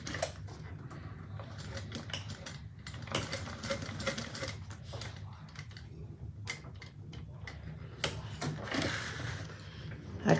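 A sewing machine stitches the corner of a fabric bag in quick rattling bursts, pausing and restarting several times with close, dense mechanical ticking.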